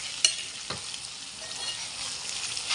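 Cabbage and chana dal curry sizzles in oil in a pan, a soft steady frying hiss with a couple of faint stirring taps.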